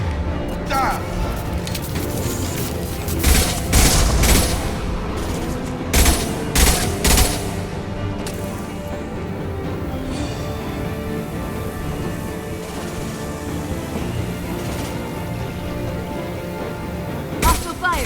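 Hostile gunfire and explosions in a Mass Effect 2 firefight: bursts of rapid shots and heavy booms cluster early and mid-way, then sparser cracks, with voices talking over the combat throughout.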